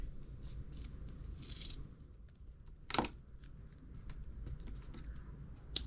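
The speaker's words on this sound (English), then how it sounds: "We can just trim it off with a pair of scissors." Faint, scattered snips of scissors trimming paper for card-making, with one sharper cut standing out against a low background hum.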